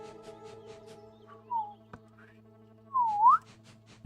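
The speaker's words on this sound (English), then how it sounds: "That's the dog whistle." Two rising-and-falling whistles, a short one followed by a longer, louder one, used to call dogs in a game under development, over a steady low hum with faint background noise.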